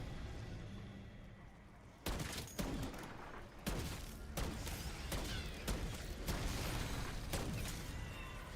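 A Death Machine minigun in Black Ops 6 Zombies fires a sustained rapid stream of shots, with sharp louder cracks breaking through the dense roar.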